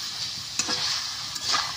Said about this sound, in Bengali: এই যে দেখেন ভাজা হয়ে আইতেছে